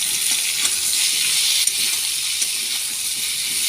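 Mixed vegetables, potato, carrot and pumpkin, fry in a hot pan with a steady close sizzle, broken by a few soft clinks and scrapes as they are stirred.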